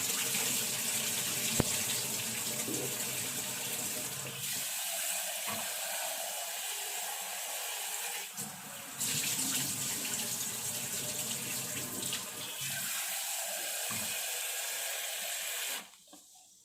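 Rice is rinsed several times under a running kitchen tap, a steady close rush of water with a few short breaks and shifts in flow, and no one speaking.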